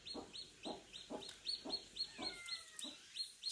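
A newly hatching chick, being helped out of its shell, peeps in a steady series of short, high chirps about twice a second, close and fairly faint, with one longer sliding call near the end.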